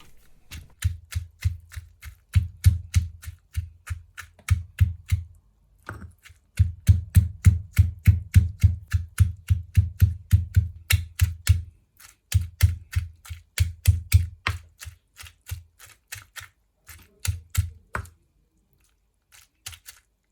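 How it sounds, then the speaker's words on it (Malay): Rapid, regular pounding thuds of a pestle in a mortar crushing anchovies, in steady bursts separated by short pauses, close by with no talking. "Masukkan ikan bilis dan tumbuk lagi."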